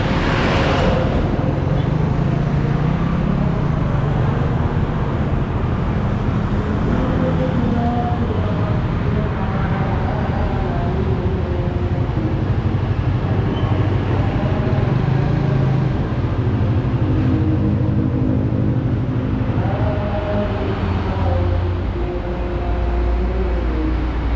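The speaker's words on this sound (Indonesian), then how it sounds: "Nih sering banget lewat truk nih, aduh." Heavy trucks and other vehicles rumble past close by on the Pantura coastal highway at night, a loud, continuous roar of engines and tyres with deep surges as each big vehicle goes by.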